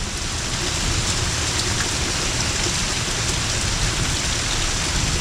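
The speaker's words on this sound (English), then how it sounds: "every day it seems like we're getting more than enough rain" Steady, heavy rain pours down in the deep south of Alabama, a dense, close hiss of drops drumming on surfaces that holds an even loudness throughout.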